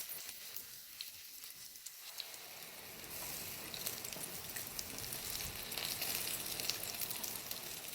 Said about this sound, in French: retournez et faites frire de l'autre côté